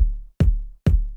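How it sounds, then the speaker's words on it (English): A short, punchy electronic kick drum for techno production, struck three times with a crisp, sharp attack and a quickly fading low thump, heard dry and alone. "Just like a pretty short, nice kind of kick with a good transient"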